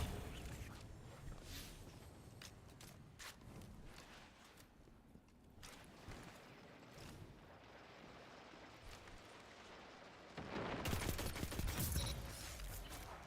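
Hakke Lodbrok-C auto rifle fired in Destiny 2 with the trigger held down, a dense stream of shots running throughout and swelling louder near the end.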